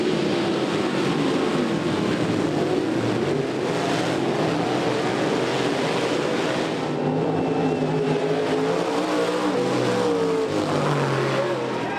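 Race cars roar at a USMTS modified race night, a continuous loud engine drone with rising and falling revs as cars pass, crowd and track ambience beneath.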